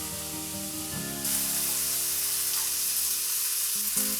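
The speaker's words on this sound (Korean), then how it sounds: "팬에 불을 중약불로 맞추고 양파링 삼겹살을 올려준 후 앞뒤로 노릇하게 구워줍니다" Thin-sliced pork belly wrapped around onion rings sizzles and fries steadily in a pan over medium-low heat, a continuous close hiss that grows louder after a second, with a few faint clinks.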